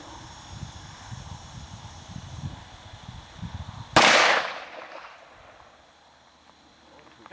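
A single sharp shot from a light three-pound gun cracks loudly about midway, then rolls off into a fading echo over steady low outdoor rumble.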